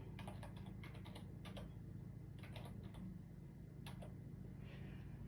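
Someone typing on a computer keyboard, short bursts of quiet clicking keystrokes separated by pauses, faint and close over a steady low background hum.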